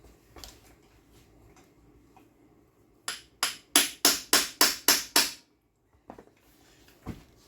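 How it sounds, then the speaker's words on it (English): A manual impact driver is struck with a hammer to loosen screws on an old Pioneer chainsaw, producing a quick series of about eight sharp, loud metallic blows, with a few softer knocks before and after. "The impact driver. Or the impact screwdriver."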